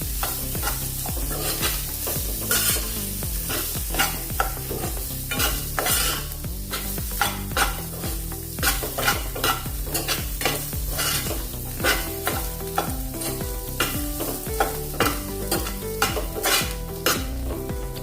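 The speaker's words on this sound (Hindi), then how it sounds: "थोड़ी देर इसको हमने भून लिया है, मटर को भी।" Peas and spices stirred and fried in a kadhai while making methi matar sabzi, a steady close sizzle with repeated scraping and clinking of the spoon against the pan, no voices.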